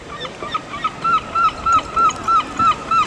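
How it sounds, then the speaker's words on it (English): A repeated honking call at the ocean shore, about eight evenly spaced calls over steady background noise, fairly loud and close, with no talk. "Seagulls."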